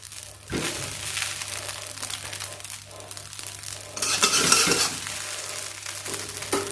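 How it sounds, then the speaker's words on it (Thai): Rice vermicelli noodles sizzle and crackle as they are stirred in a hot pan, a continuous frying hiss with rustling scrapes that swells louder midway, close and without talk. "นี่เปิดไฟเลย มีเสียงฉี่ฉี่หน่อยนะ"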